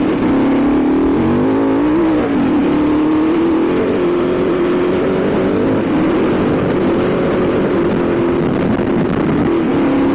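A KTM 950S motorcycle ridden on forest tracks in Portugal, its engine droning steadily and loudly with small rises and dips in pitch as the throttle shifts, close and continuous throughout with no voices.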